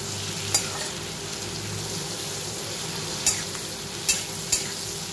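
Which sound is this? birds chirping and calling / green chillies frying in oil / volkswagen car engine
green chillies frying in oil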